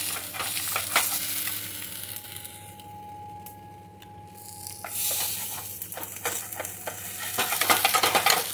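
Fish sizzles and spits in hot oil on a worn non-stick tawa, close and crackling, with scraping and stirring as it is worked loose and lifted off; the frying swells again toward the end.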